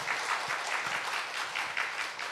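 A church congregation at a Korean Bible study lecture claps steadily for the evangelists, a dense, even burst of applause lasting a couple of seconds with no talking over it.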